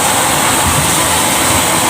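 A repaired Shimizu water pump motor runs continuously while a tank fills, producing a close, loud, steady mechanical hum and whir with no variation or speech.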